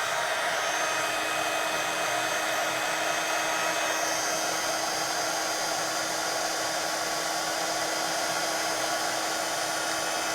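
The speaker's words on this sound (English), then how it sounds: "I will just melt that embossing powder quickly" A heat tool melts embossing powder on an art journal page, giving a steady, loud blowing whir that runs unbroken for the whole stretch with no voices.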